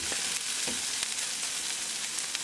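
Onion fries in a pan for pav bhaji, giving a steady close sizzle with faint stirring scrapes and no voices.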